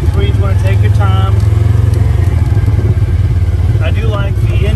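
A Polaris RZR Ultimate side-by-side engine braking while descending a steep trail in Uwharrie National Park: a loud, steady low engine drone and drivetrain rumble, with people talking over it throughout.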